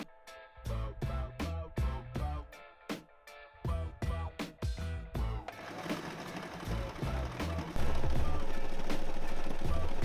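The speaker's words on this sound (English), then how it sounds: "now I'm going to sew this front panel with the back one" Sewing machine stitching the seam that joins the front and back panels of a striped off-shoulder dress, running in short bursts that turn into a steady, louder whir toward the end.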